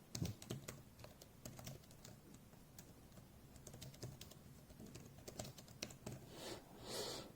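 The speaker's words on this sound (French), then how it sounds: "on est quand même sur une frappe assez silencieuse" Soft, quiet typing on a compact HOU keyboard case for iPad, a quick run of light taps close by, with a brief rustle at the end.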